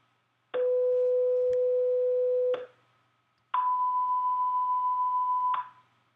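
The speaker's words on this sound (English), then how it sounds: "we get two relatively loud tones" Two loud steady test tones, each about two seconds long, separated by a short silence; the second tone is slightly lower in pitch.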